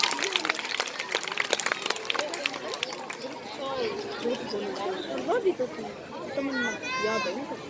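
A school audience at a Republic Day function claps for a group of 7th-grade girls called up to sing: sharp, scattered claps over the first few seconds, then they thin out under lively voices and crowd chatter.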